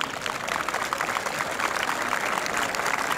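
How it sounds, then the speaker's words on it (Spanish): A street audience watching traveling comedians in Peru applauds for all mothers, a moderate, continuous patter of clapping heard from a short distance throughout. "Un aplauso para todas las madres, pues."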